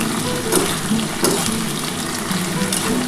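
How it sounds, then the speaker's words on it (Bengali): Potatoes frying in a pan for a soybean and potato curry, a dense, loud, close sizzle with a few scraping stirs over three seconds, no voices. "আলুটা একটু লাল লাল করে ভাজা হয়ে যাক"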